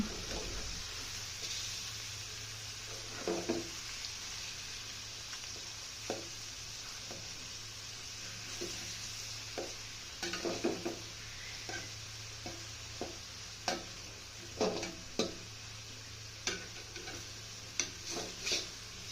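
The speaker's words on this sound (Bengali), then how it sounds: "মাংসগুলোকে কড়াইতে ভাজতে দিয়ে দিয়েছি।" Chicken sizzles steadily in a hot wok while scattered clicks and scraping knocks of a utensil stir and turn the pieces.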